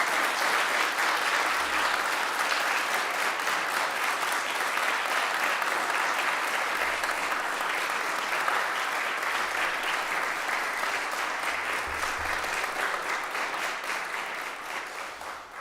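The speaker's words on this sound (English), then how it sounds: "So I'd love to hear a round of applause for Mr." Sustained audience applause at a Saturday church service, a dense, even wash of many hands clapping for about fifteen seconds and tapering slightly at the end, with no speech over it.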